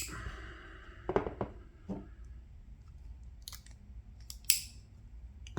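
Small multitool scissors on a Rocktol Gen-R snip and click a few times close up, sharp metallic snaps spaced irregularly over a quiet background with some breathing.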